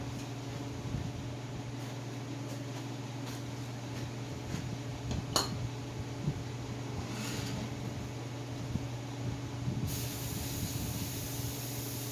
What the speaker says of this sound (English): I'm going to spray the groove out quick.